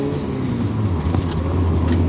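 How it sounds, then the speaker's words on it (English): A race car with a completely failed clutch drives along a residential street, giving a constant close engine and road rumble with slight surges in revving. "I'm gonna park this car before I get into any trouble because this is not safe to drive on"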